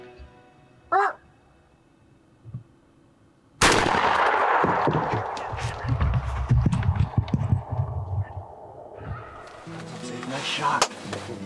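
A shotgun firing TSS number 9 shot at a turkey from over 60 yards, one sudden loud blast after a quiet stretch with a faint call, followed by rustling, thumps and excited voices.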